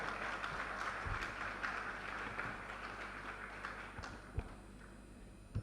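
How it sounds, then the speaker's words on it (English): Steady applause from a conference audience, a dense patter of clapping that gradually thins near the end, heard from a distance. "Sous vos applaudissements."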